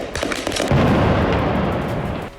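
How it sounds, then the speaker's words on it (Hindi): Night fighting in a war zone: a dense, continuous barrage of explosions and rapid gunfire, loud and crackling throughout with heavy booms underneath, and no voices. "रात के अंधेरे में चल रही इस जंग में धमाके और गोलीबारी की आवाज साफ सुनाई दे रही है।"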